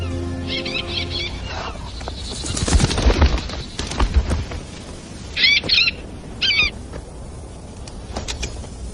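Several short chirping bird calls ring out in small clusters over a faint outdoor background, with scattered knocks and rustles; no one speaks.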